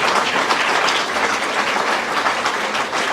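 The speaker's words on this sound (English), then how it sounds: "Round of applause would be great." An audience gives a round of applause at the 2023 Historical Hall of Fame and Living Legends celebration. The clapping is a dense, continuous wash that stays loud and even throughout, with no voices on top.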